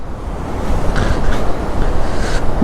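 Swollen, fast-flowing mountain river on the route from Kishtwar to Killar, a steady loud broadband roar of rushing water with wind buffeting the microphone, continuous throughout with no voices.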